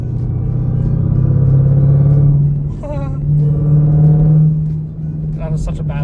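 A Jeep Trackhawk V8 holds a steady, deep engine drone while being revved, swelling and easing over several seconds, close and fairly loud, with a voice speaking briefly partway through.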